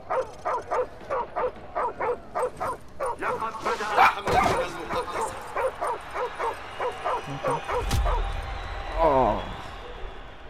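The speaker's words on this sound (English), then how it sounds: "Oh, hello, puppy." A puppy gives a rapid, regular series of short high yips and barks, then shifts into rising whimpers near the end. The sounds are close but fairly quiet, with a loud thump partway through and someone talking.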